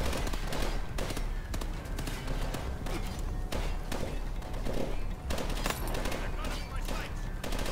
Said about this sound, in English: This is supposed to be a powerful sniper.